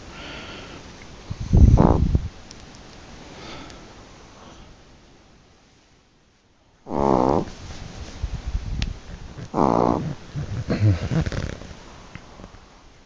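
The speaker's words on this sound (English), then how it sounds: "Looks like somebody's snoring like a truck driver." A Chihuahua snores close by in a few rough, raspy bursts separated by quiet breathing, with one louder rattling snort in the middle.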